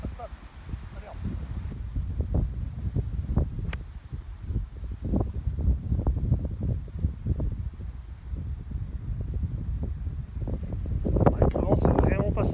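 Gusty wind buffets the microphone on an outdoor golf course, a rumbling roar with rustling bursts, while someone talks over it.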